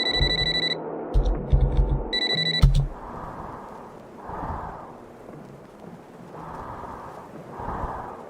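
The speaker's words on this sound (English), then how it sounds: "The phone will ring." Telephone ringing: a bright electronic ring in two short bursts, followed by low rumbling swells of sound.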